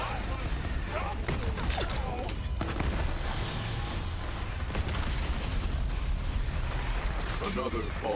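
A Jacobs pistol fires in a game battle: several sharp reports and blasts rise out of a dense, rumbling backdrop of distant gunfire and mechanical noise.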